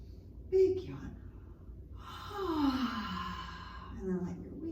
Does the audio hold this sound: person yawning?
yes